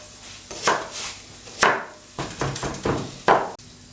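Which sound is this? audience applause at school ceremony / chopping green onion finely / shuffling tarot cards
chopping green onion finely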